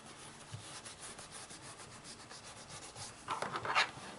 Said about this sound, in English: just give it a nice rub with your bone folder